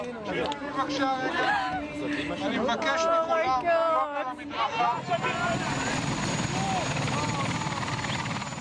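A helicopter carrying released hostages arrives over Tel Aviv's Ramat Gan district, its steady rotor roar loud and continuous beneath a crowd's excited chatter and voices.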